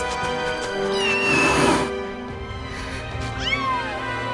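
Kittens in the Final Fantasy VII Rebirth video game meowing, two high rising-and-falling mews a couple of seconds apart, clear and close over a soft game background with no talking.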